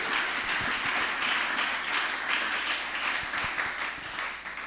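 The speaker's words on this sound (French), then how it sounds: "On acclame, on acclame, on acclame" A Pentecost church congregation applauds together, a dense, continuous wash of many hands clapping at steady loudness throughout, with no voices rising above it.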